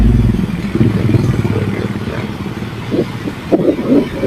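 A motorcycle ridden on the road from Ragay to Sorsogon, its engine droning steadily with rumble and wind noise, some clattering and scraping bursts near the end.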